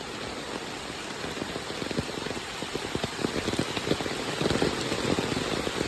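Steady heavy monsoon downpour in Konkan, a constant close hiss of rain striking surfaces and scattered louder drops, building slightly toward the end, no talking.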